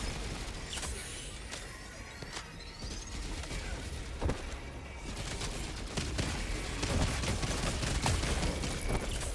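Bursts of rapid gunfire and explosions fill a Helldivers 2 battle against squid enemies, dense and continuous with sharp crashes and rising intensity toward the end.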